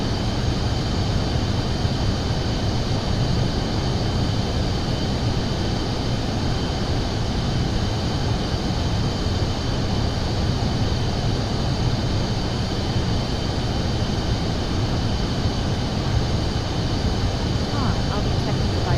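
A steady, loud propeller-aircraft engine drone from Microsoft Flight Simulator 2024 runs unbroken throughout, with no clear drop in pitch or level.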